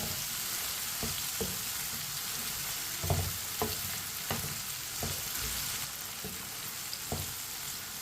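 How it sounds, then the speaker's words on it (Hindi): Tomatoes and green chilies fry in a pan, giving a steady close sizzle broken by about a dozen short scraping knocks as a spoon stirs them at an uneven pace. "इसी तरह चम्मच चलाते हुए पकाएं। दोनों चीज़ों को जलने नहीं देना।"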